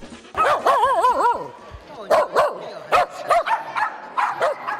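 Dogs bark, yip and whine in sharp, close bursts: a long wavering howl-like whine followed by a rapid string of loud barks, with no talk over them.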